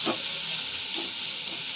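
Garlic and green chillies fry in a pan, giving a steady close sizzle and hiss with a couple of faint stirring scrapes, and no speech.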